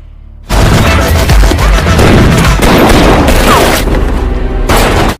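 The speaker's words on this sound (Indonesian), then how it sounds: "Serangan ini membuat anak buah Harry marah dan baku tembak sengit pun terjadi di tempat itu." Fierce gunfire in a shootout: a dense, loud barrage of overlapping gunshots and booms, sustained nearly continuously for about five seconds with no pauses.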